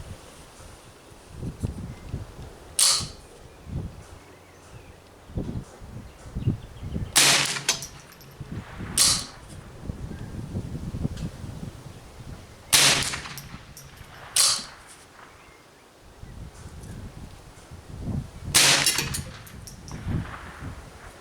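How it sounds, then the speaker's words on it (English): Rifle shots fired at a target range, several sharp loud cracks spaced apart, among them a group of three, with a quiet outdoor background of light rustling in between. "lay down another 3 shots"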